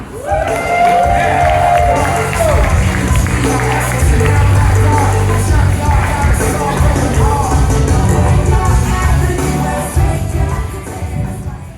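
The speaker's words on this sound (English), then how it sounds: "keep that applause and energy going for your next comic, DC Slim" A comedy club audience, fired up for the next comic, fills the room with loud, sustained applause, cheers and scattered whoops that carry on without a break for the whole stretch.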